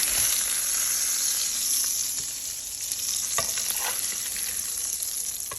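Salmon fries in butter in a pan with a dense, steady sizzle, close and loud, broken by a few faint clicks and scrapes and no voices.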